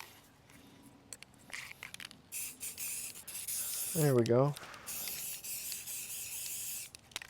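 Satin bright white exterior spray paint hisses from an aerosol can in several short bursts on a gingerbread man decoration, with a person briefly speaking.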